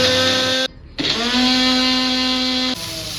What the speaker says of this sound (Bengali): সামান্য জল দিয়ে মিক্সিতে পেস্ট বানিয়ে নিচ্ছি।